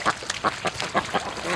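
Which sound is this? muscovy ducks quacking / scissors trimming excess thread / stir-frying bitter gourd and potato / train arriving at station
muscovy ducks quacking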